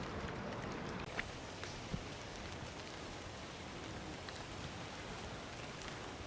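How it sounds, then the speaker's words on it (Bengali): Rain falls outdoors as a steady, broad hiss of drops on surfaces, with a couple of faint taps and no clear talking. "বৃষ্টি পড়ে এখানে"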